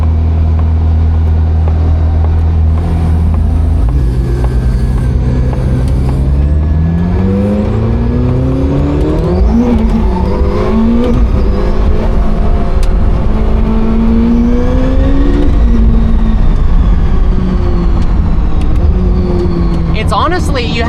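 Czinger 21C hypercar engine pulling hard under acceleration, pitch sweeping upward in long rising runs with breaks between shifts, loud and continuous from the cabin, with a voice talking over it.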